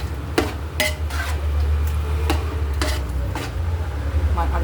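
A spoon stirs a cooking pot of chicken biryani base with yogurt and rock salt, giving repeated scraping knocks against the pot at an uneven rhythm over a steady low background hum.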